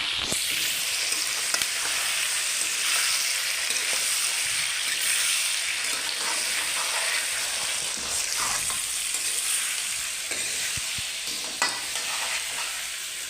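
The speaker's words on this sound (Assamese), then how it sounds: "এই আদা নহৰুখিনি দি দিছোঁ আৰু ভালদৰে লৰাই দিম" Ginger garlic paste is stirred into pork frying with tomato for an Assamese-style pork gravy, a loud continuous sizzle close up with occasional spatula scrapes and knocks, no voices.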